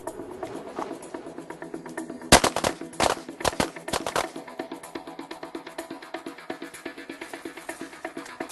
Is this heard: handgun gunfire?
yes